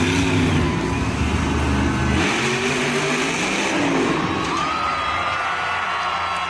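A monster truck engine revs loudly inside a stadium at a Monster Jam event, its roar rising and falling under a constant wash of cheering and shouting from the crowd.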